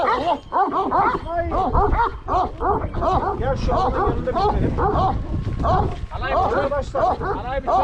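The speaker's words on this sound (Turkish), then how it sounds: "Yukarıda da köpekler var." Several Malaklı dogs bark and yip repeatedly, close and loud, with an overlapping chorus of barks and whines throughout and people talking underneath.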